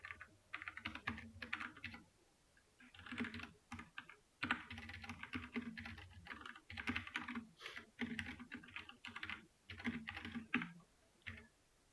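Rapid, steady typing on a computer keyboard, with dense clusters of quiet key clicks and short pauses between bursts, close and alone with no talking.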